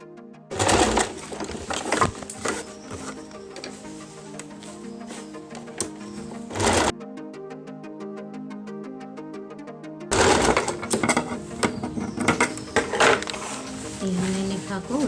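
Sewing machine stitching a dhoti-pattern salwar, a rapid mechanical whirr running in bursts with a brief pause, close and steady, while someone talks over it.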